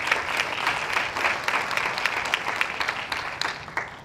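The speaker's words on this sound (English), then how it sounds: "Let's give Angel a round of applause" Warm applause from the audience at a Hispanic leadership summit, a dense, steady round of clapping that tapers off near the end.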